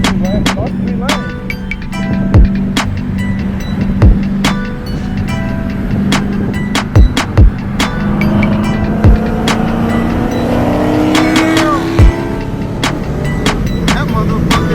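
A Dodge Hellcat with a supercharger roars through a sustained burnout, its engine droning loud and steady while sharp pops and cracks punctuate it and voices talk over the noise.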